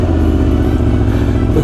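An Aprilia Tuono motorcycle runs on a ride, its loud engine a close, constant low rumble with a steady throb.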